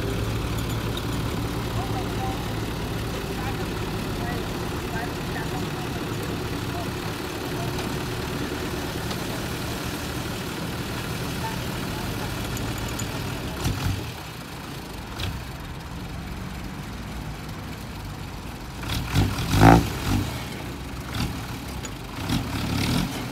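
Six-wheel dump truck engine running steadily while tipping a load of soil, a continuous low rumble throughout with a few sharper knocks and clatters near the end as the soil slides out; faint voices occasionally underneath.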